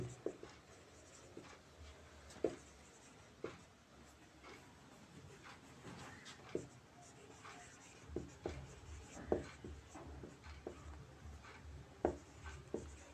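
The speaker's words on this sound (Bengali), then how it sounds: "একটু লিখে নি" A pen writing by hand on paper makes soft, faint scratching strokes, with irregular taps and scrapes spread across the whole stretch, quiet and close, with no talk.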